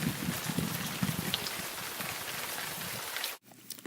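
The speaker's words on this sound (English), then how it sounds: "It's raining." Steady hiss of rain falling and pattering on surfaces, dense and continuous, then cutting off abruptly near the end.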